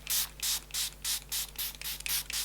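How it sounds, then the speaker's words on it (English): Fenty setting spray misted from a pump bottle in a run of about eight short, loud hissing bursts, evenly paced, close up with no talking. "I've got to go in with a nice long-lasting setting spray"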